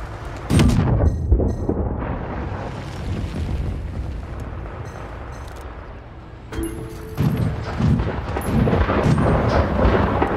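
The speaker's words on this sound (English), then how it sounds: "Friendly airstrike incoming." Friendly airstrike explosions pound a shooter game battlefield, several heavy booming blasts and rumbling aftershocks over about ten seconds, loud and close, with faint game voices and effects mixed in.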